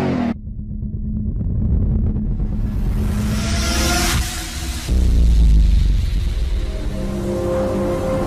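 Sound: Mitsubishi Xpander car engine starting

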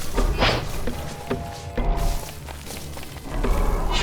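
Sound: axe striking an Ent in Don't Starve Together video game

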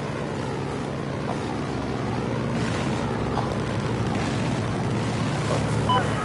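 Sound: boat sound in a video game

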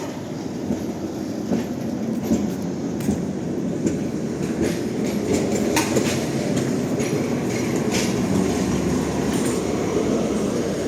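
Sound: tram passing by

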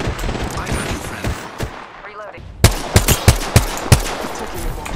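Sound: enemy gunfire in the video game Apex Legends

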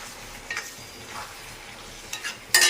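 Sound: boiled potatoes added to the pan and stirred

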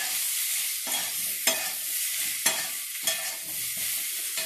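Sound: stirring ginger paste frying in a pan

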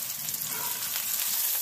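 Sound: hot dogs sizzling in skillet on wood cook stove

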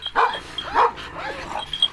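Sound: large female dog barking

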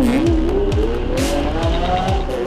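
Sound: Lamborghini LP700-4 Roadster with stock exhaust accelerating in Sport mode

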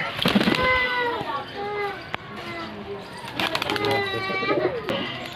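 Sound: Kaldama pigeon being released

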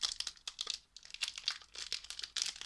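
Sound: tearing open a Magic card pack wrapper

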